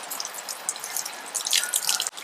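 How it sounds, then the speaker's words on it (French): Water from an outdoor beach shower in Australia patters and drips in a steady spray, growing briefly heavier toward the end before cutting off abruptly. "on se douche un peu dehors, il y a des douches de plage"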